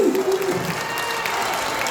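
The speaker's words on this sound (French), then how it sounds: "Très chaleureusement d'applaudissements, s'il vous plaît" Steady crowd applause at a campground music festival filling the whole clip, dense and continuous clapping from a sizable audience, with a brief voice at the start.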